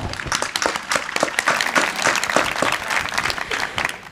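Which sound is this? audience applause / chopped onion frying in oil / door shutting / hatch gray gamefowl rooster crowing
audience applause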